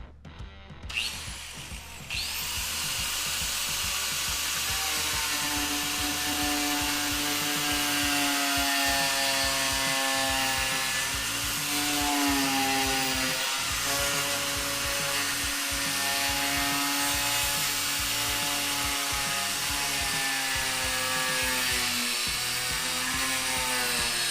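Power tool cutting through a steel front bumper area during a Toyota Tacoma 3rd Gen winch bumper install, a steady loud whine running continuously for over twenty seconds after a brief start.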